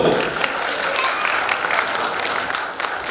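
An audience at a folk art festival award ceremony claps together in a steady, fairly loud burst of applause that continues throughout the short moment, with a faint murmur of voices beneath.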